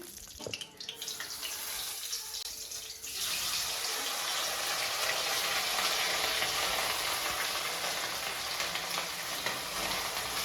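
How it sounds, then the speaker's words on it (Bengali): Whole garam masala frying in ghee and a little oil in a home kitchen pan, a steady close hissing sizzle that swells in after a quieter opening few seconds and holds for the rest. "ঘি তারপরে দিয়ে দিচ্ছি গোটা গরম মশলা"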